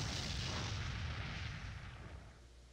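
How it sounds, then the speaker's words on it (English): A dual explosion magic blast in the KonoSuba: Fantastic Days game, heard as a loud, sustained roaring rumble that slowly fades over a few seconds. "The dual explosion magic released a tremor, burst of power, leaving behind an enormous crater."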